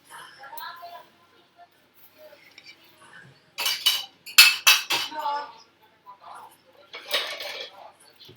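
Dishes, pots and pans and cutlery are washed at a kitchen sink, giving scattered clinks and bursts of clattering metal and glass, close by and moderately loud, with a voice talking between them.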